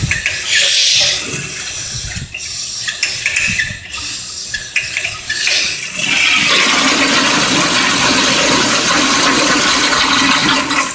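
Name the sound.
American Standard toilet flushing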